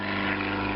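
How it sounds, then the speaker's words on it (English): A small propeller aeroplane passes overhead, a steady droning engine hum with a faint rumble, heard alone at low-moderate level. "there's an aeroplane overhead now, so sorry about that."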